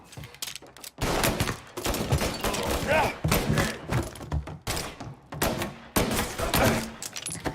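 Gunfire in the video game Mafia: Definitive Edition, dense rapid bursts of shots in repeated volleys with short pauses between, loud and close, mixed with shouting voices.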